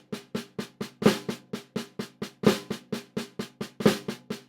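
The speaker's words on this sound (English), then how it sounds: "Okay, the flam paradiddle diddle." A flam paradiddle diddle rudiment played on a snare drum: crisp, evenly spaced strokes in a steady repeating pattern, with the louder flammed accents recurring at regular intervals, close and alone.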